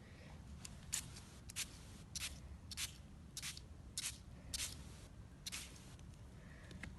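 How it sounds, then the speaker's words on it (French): Brushos pigment color misted from a spray bottle onto an artist trading card, about a dozen short, crisp hissing pumps in a quick, steady rhythm, close and fairly quiet. "j'essaye de partir de plus haut pour faire mon spray"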